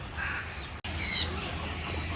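Birds at a bird park give a couple of short squawks over a steady background hum, one brief sharp call standing out midway, near and moderately loud.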